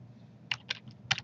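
A few quick computer keyboard keystrokes, soft and close, come in two short clusters while numbers are entered during CAD drawing work.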